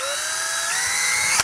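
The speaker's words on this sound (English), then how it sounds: "I'm going to use a drill this time just to keep it a little neater." A power drill with a 1/16 inch bit bores holes in a thin metal can, a steady high motor whine running throughout, close and loud, with a brief surge at the end.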